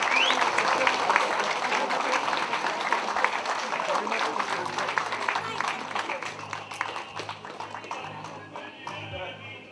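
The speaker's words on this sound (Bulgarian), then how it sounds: "Силни аплодисменти за младоженците" Wedding guests at a celebration give the newlyweds and the best man a long, loud round of applause, a dense, steady roar of clapping that fills the whole stretch and fades slightly toward the end.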